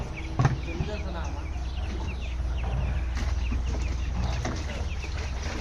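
Broiler chickens cluck and chatter throughout a poultry farm housing about 1,700 birds, a steady close flock din with brief louder squawks, while people talk faintly and water is being filled nearby.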